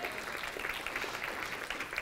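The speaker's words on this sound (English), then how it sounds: "let's clap for her" A church congregation claps for a couple marking a 35th wedding anniversary, an even wash of applause heard from some distance, fairly quiet and steady across the moment, with no talking.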